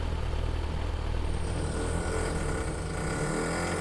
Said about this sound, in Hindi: ये लो, बाइक भी स्टार्ट हो गई, चलो चलते हैं।